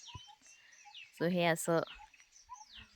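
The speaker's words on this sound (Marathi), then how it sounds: "असं छान पक्ष्यांचा किलबिलाट ऐकू येतो आहे." Birds call in a village at morning with a few faint, scattered chirps and whistles in the background, while a person speaks briefly and loudly over them.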